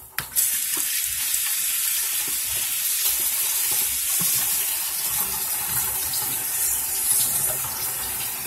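Tap water pours steadily into a sink while a face mask is rinsed off, a continuous close splashing hiss with slight shifts as hands move through the stream.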